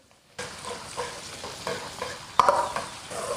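Pork belly and a spoonful of Sichuan doubanjiang stir-fried in a hot wok, steady sizzling broken by repeated scraping strokes of the spatula, with one sharper clatter midway.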